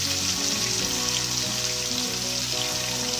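Ghee and tomatoes sizzle in a pan while urad dal is cooked, a loud, steady frying hiss that runs the whole time, with a low tonal hum underneath.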